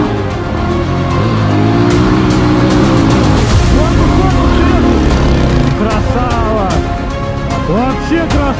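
An enduro motorcycle climbs a hill near Dubrovitsy on an autumn ride, the engine revving loud and close with rising and falling pitch sweeps as the throttle works, while a person talks over it.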